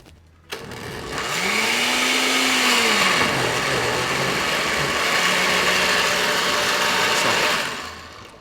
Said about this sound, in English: We're just using the blender today. Put it back on.